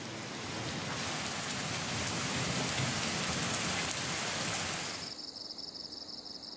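Steady, dense rain pours down across the whole stretch on a front line in Pakistan, loud and even, then thins abruptly near the end to a lighter patter with a faint high tone.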